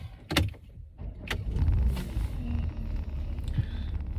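A Porsche Cayenne engine starts up close by, with a few clicks before a low rumble rises and settles into a steady idle.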